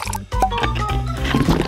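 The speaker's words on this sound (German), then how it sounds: "Und nur jetzt gieße ich kochendes Wasser über den Kaffee." Boiling water poured over freshly ground coffee, a loud continuous liquid gush with gurgling and splashing that runs the full short span up close, with no one speaking.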